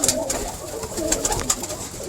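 Caged pigeon cocks, leftover males not yet breeding, coo softly in a loft, low murmuring calls repeating through the clip with light rustling and a few sharper chirps above.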